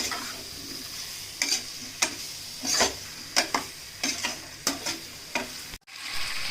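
Chicken pieces frying with masala and salt in a pan at home, a steady soft sizzle broken by repeated scraping stirs of a spatula, roughly one every half second, close and alone.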